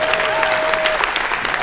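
Audience applause at a comedy show of useless impressions, a steady wash of clapping from a full room filling the whole short stretch, with a faint tone running under it.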